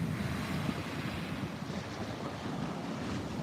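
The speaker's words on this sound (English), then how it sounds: "And with the sound of the ocean" Ocean waves wash onto a beach in a steady, broadband roar with wind buffeting the microphone, continuous and moderately loud with no voices present.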